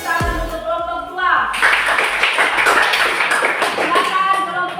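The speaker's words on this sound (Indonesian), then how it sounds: "Tepuk tangan untuk kelompok 2." A class group in a school religion lesson gets a burst of clapping from classmates, dense and close, following a brief opening thump and voices, the applause carrying on steadily to the end.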